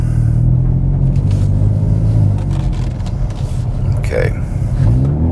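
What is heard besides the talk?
2019 Hyundai Veloster N car accelerating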